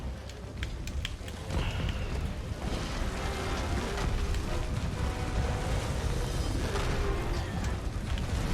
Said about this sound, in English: I guess any surface they'll just sort of adhere to and then explode